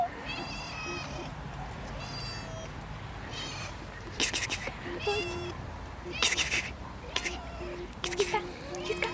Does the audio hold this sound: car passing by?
no